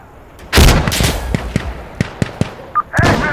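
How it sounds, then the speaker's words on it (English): A grenade blast on a rooftop in the video game Insurgency Sandstorm, one loud sharp explosion followed by several quick crackling impacts and a brief higher tone near the end. "Gonna throw a grenade on the roof."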